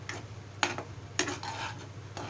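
A metal lid comes off a pot of Maharashtrian lapshi on a gas stove, giving a few sharp clinks and scrapes spaced about half a second apart over a steady low hum.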